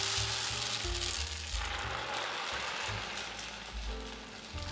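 Noodles frying in very hot oil give a loud, dense, continuous sizzle and crackle close by, with no talking over it.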